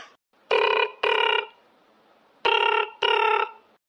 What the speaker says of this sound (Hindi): हां अम्मा घंटिया जात बा।